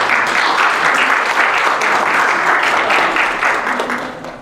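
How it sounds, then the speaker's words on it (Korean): A church congregation bursts into loud, sustained applause, dense steady clapping from many hands that holds for several seconds before tapering off at the end. "박수로 한번 감사합니다."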